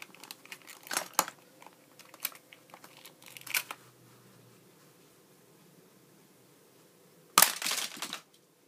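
Cardboard and plastic packaging of a Hot Wheels Dragon Destroyer playset is torn open near at hand, several bursts of crinkling, cracking and ripping with quiet gaps between and a final louder tear.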